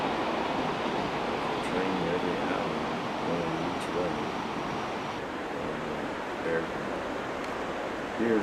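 Water from a mountain spring in Graubünden, Switzerland, flows down a creek beside a walking path with a steady, continuous rush and splash. Close and constant, with no distinct drips standing out.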